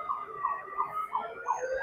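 Fire brigade vehicle siren wailing in a repeating rising and falling cycle, moderately distant and fairly quiet, with a faint background hum and no speech.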